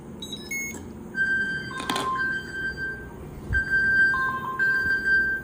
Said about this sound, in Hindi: अब देखो मेरा फ़ोन जो है वो रिंग होने लगा है